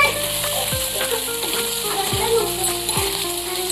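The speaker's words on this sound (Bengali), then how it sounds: "পেঁয়াজটা দিয়ে ভালো করে ভেজে নেবো।" Onions fry in oil for an egg curry, giving a loud, constant sizzle with a few scraping stirs of a spatula against the pan.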